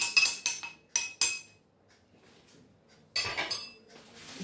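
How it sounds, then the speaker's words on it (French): A mortar holding crushed parsley, coriander, garlic and salt is emptied, giving sharp close clinks and scrapes of utensil against the bowl in quick bursts, then a lull, then another cluster of knocks. "ودابا غادي نخوي المهراس"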